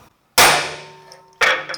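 A steel hammer strikes a touch mark stamp on an ice pick over an anvil, giving two sharp metallic clangs with ringing decay, the first loud and ringing longest, the second shorter, with no talk.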